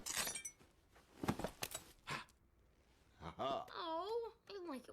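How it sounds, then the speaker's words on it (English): Glass shattering in a scene from The Incredibles, sharp crashing breaks with tinkling fragments, followed by a speaking voice. "Oh, I like it when it shatters."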